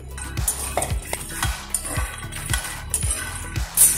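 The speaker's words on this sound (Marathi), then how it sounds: "आता आपण मकाना भाजून घेऊ।" Fox nuts (makhana) dry-roasting in a pan for fenugreek ladoos, with a spoon scraping and tossing them in a steady rhythm of strokes about every half second, close and clear with no talk.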